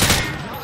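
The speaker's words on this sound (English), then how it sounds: "He sprayed bullets all over the damn place." A short, loud burst of rapid automatic gunfire sprayed from the hip in Call of Duty: Modern Warfare 2, heard as a dense rattle that cuts off quickly.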